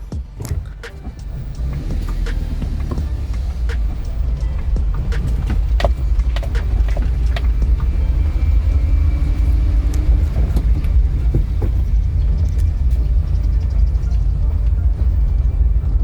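A car drives along the road, a steady low rumble of engine and tyres from inside the cabin with faint scattered clicks and rattles, continuous and fairly loud throughout.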